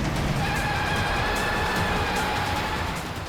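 A car is driven fast and recklessly, its engine a steady loud roar with road rumble throughout, and faint whining tones running above it.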